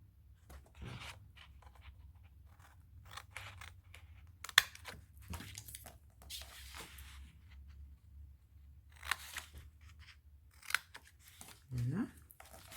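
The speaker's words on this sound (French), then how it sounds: "Donc on vient couper." Scissors snip through paper while an advent calendar is being made, giving scattered, faint, close cuts and clicks over about thirteen seconds, with a quiet voice speaking at times.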